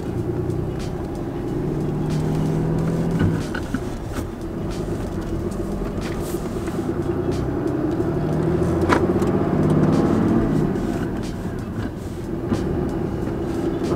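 A rare newer diesel truck being driven, heard from inside as a steady low engine drone with road rumble that rises and falls slightly through gear changes, with no talk.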